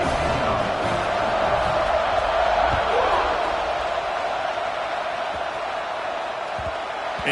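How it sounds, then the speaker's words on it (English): Football stadium crowd at an Oklahoma State versus Nebraska game buzzing after a touchdown, a continuous loud roar of many voices with a tonal hum running through it, steady throughout. "this crowd is buzzing after that last score"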